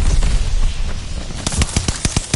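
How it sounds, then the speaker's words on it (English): Allied mortar barrage in Battlefield V: a muffled rumbling stretch followed by a rapid run of loud, close blasts in quick succession, several sharp impacts stacked near the end. "Heads up! Allied mortar fire coming!"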